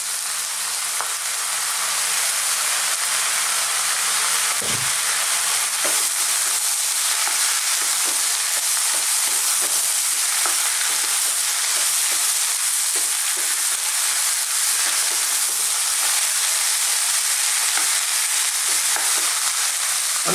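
Chickpeas and spices fry in a pan with constant stirring, a dense steady sizzle and hiss running throughout with soft scraping strokes mixed in, no talking.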